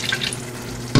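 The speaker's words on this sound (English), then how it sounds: "Now I'm going to add small amount of water here" Water is poured into a pan of simmering mutton pepper curry with onion, tomato and dry chili masala, giving a brief sizzling hiss that ends in a sudden louder splash, short and close.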